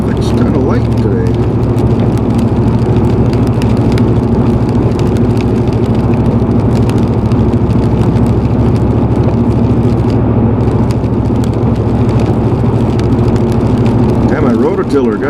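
Steady, loud rumble of light highway traffic and cars on the road, a continuous low drone without distinct pass-bys, with faint voices murmuring underneath.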